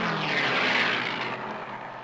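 A P-51 Mustang racing aircraft roars past at the Reno Air Race, a brief loud propeller and engine drone that swells and then begins to recede.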